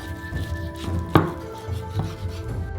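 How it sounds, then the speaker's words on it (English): A thin knife cuts through a rolled futomaki sushi roll, giving two crisp, sharp knocks against the board in an otherwise quiet kitchen, close and moderately loud. "Next, carefully cut it with a thin knife."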